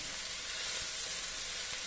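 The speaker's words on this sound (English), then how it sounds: "and the cherry tomatoes. Little bit of a stir around." Cherry tomatoes sizzling and frying in a pan for a Keralan fish curry, a steady close hiss with a faint soft knock from stirring.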